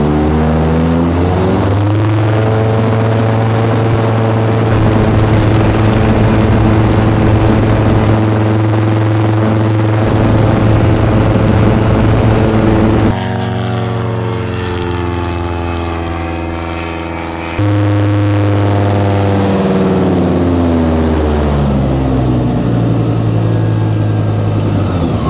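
Engine of a Pipistrel Taurus motor glider during takeoff preparation, rumbling steadily and loudly, a propeller drone with a sustained pitch that drops sharply for a few seconds mid-run before returning.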